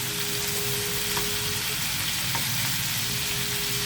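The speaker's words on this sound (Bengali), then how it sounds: "চিংড়ি মাছটা একটু হালকাই আমি ফ্রাই করবো" Prawns frying lightly in a pan of hot oil give a steady, close sizzle that holds evenly without a break, with no talking.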